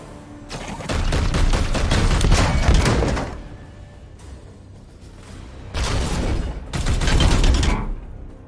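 Two sustained bursts of rapid gunfire in Warhammer 40,000: Chaos Gate Daemonhunters, loud and close, separated by a brief quieter gap with scattered shots.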